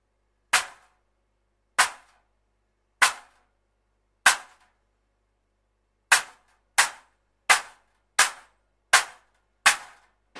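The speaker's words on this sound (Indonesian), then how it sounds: "Oke, jadi itu dia untuk suara dari clap stack." A clap stack of 14, 12 and 10 inch stacked cymbals struck ten times, each hit a sharp, dry, trashy crack with a very short decay, played alone and close, in slow spaced strokes and then a quicker even run.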